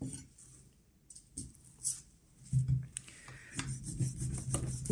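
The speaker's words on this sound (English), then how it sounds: "let us begin by making the first cut through the rind, 2 centimeters away from the knuckle" Knife cutting through the rind of an Iberico ham near the knuckle, heard as soft, close scraping and rasping strokes with faint clinks, fairly quiet and irregular, with no talking.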